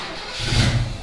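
A car engine fitted with EFI and working original cowl induction flaps revs up loudly and close by, swelling to a peak midway through the short burst before easing off slightly.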